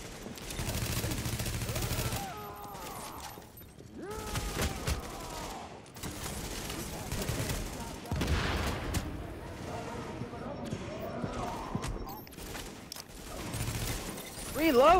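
Gunfire in Tom Clancy's The Division, bursts of rapid automatic shots and heavier booms rattling in clusters, mixed with mechanical clatter and voices talking over the fight.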